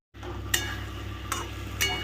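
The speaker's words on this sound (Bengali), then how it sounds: "কাজু বাদাম আর পোস্তটা দেওয়ার পরে একটু হালকা হাতে একটু নেড়ে নেবে।" Cashews and poppy seeds are stirred gently over low flame while fish roe fries, giving a steady soft sizzle with three brief scraping clinks of a spatula against the pan, no talking.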